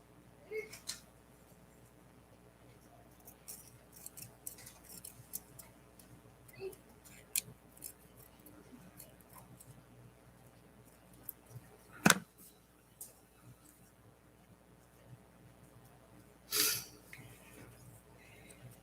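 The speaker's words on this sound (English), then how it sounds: "I'm going to cut these out." Scissors cut out paper shapes, with faint, sparse snips and small rustles, quiet and intermittent, and a couple of sharper clicks and handling knocks near the middle and end.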